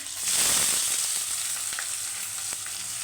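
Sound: frying green chillies and onions in oil

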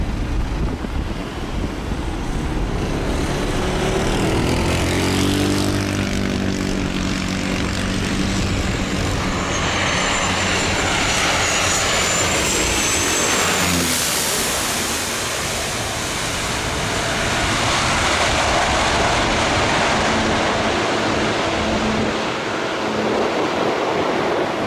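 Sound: airplane approaching to land

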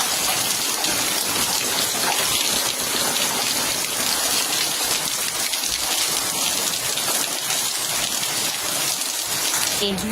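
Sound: rain falling

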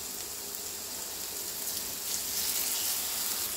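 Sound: shrimp sizzling in oiled skillet

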